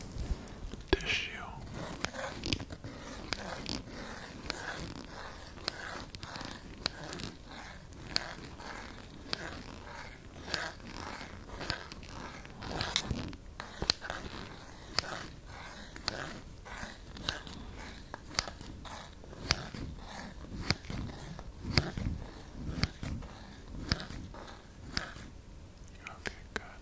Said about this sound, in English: And now I'm going to be cutting through the tissue.